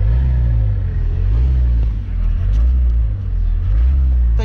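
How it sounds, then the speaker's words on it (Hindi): A CNG-run Maruti Eeco engine held at full throttle yet failing to rev up, giving a steady, loud low rumble with slight surges, heard close and continuous throughout. "ये देखो पूरा पंजा रख दिया, रेस होनी चाहिए लेकिन रेस नहीं आ रही।"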